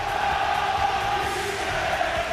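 Steady roar of a large rugby league crowd at St Helens versus Wigan, with a broad, continuous din of cheering and calls heard from a distance.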